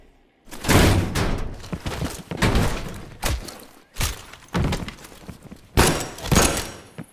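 A series of heavy thuds and bangs as a door is forced open in Call of Duty: Black Ops Cold War, with several loud impacts spread across a few seconds.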